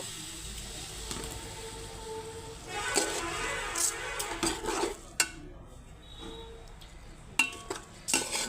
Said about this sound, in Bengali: এখন আমি ডাল চাল সব একসঙ্গে দিয়ে দিচ্ছি দিয়ে আরও খানিক্ষণ কষিয়ে নেব